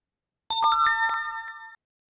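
A single bright electronic chime from an Android phone's event management app notification rings once for just over a second, clear and close, alone against silence.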